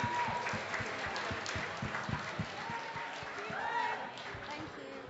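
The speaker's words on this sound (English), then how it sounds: "If everyone could give a round of applause," Audience applause at a students' union election results night, a steady wash of clapping with a crowd murmur and some voices mixed in, fairly loud and continuous throughout.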